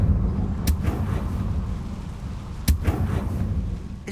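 A Confringo blasting spell goes off twice in Hogwarts Legacy, each cast a sharp, loud crack over a constant low rumble of game ambience.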